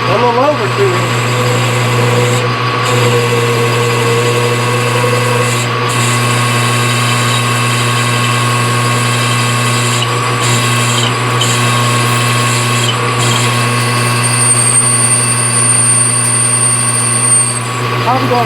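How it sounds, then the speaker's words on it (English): A power drill whines steadily at a constant pitch throughout, drilling about two inches deep into steel at slow speed, loud and close, with a person talking faintly beneath. "we're going to drill this thing basically 2 inches deep, a little over 2 inches."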